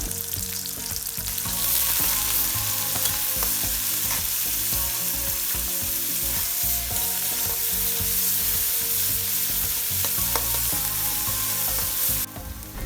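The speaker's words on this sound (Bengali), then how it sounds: "এখন আমি একটা কড়াইয়ে তেল গরম হলে পেঁয়াজ কুচি এবং কয়েকটা রসুন কুচি স্বাদমতো লবণ দিয়ে একটু ভেজে নিব" Chopped onion and garlic with salt fry in hot oil in a kadai, giving a steady, loud, crackling sizzle that runs unbroken for over ten seconds, with no talking.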